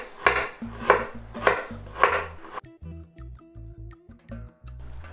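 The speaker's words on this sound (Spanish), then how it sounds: "Picamos el jengibre pequeñito" Ginger chopped finely with a knife on a cutting board, a quick run of sharp, evenly spaced chops up close, then a short pause and a few softer taps.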